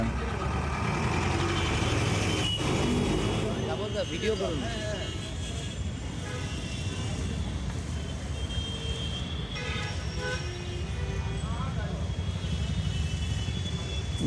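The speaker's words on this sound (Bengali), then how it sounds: "যানজটের চক্রব্যূহ ভেদ করে ট্রাম ঠিক তার পথ খুঁজে নেয়" Kolkata tram rolling through dense street traffic, a steady low rumble of wheels and engines with passing vehicles, scattered horn toots and metallic clanks, heard as continuous close-up street noise without any spoken words.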